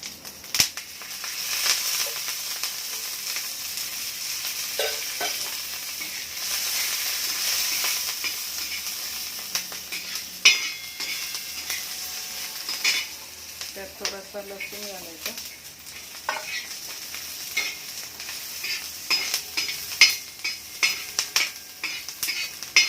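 Halved green chillies sizzle and crackle in a little oil on a hot griddle for a Marathi thecha, with stirring and scraping clatter throughout and occasional sharp knocks of utensil on pan.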